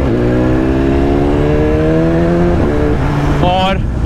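A BMW motorcycle engine rising loudly in pitch under acceleration, steady and close, with a gear change partway through and a voice talking over it.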